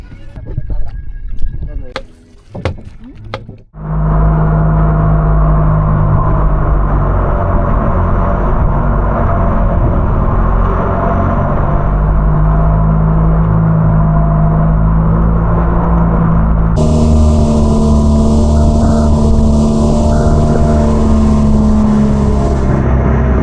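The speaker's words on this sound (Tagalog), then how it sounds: "napalitan na ng magandang makina" A steady, loud boat engine drones continuously from about four seconds on, after a few brief knocks and rustles at the start, its pitch shifting slightly partway through.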